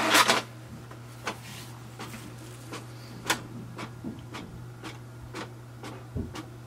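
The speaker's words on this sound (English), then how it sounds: "So you can see it has started to print here." An HP Deskjet 3760 all-in-one printer making a copy gives a series of irregular mechanical clicks and ticks from its print mechanism, with a louder clatter at the start, heard close over a low constant hum.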